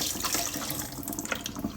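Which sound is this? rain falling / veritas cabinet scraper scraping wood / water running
water running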